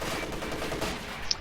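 A light machine gun fires a rapid burst in a World War II strategy video game, a quick rattle of close shots running for over a second without pause.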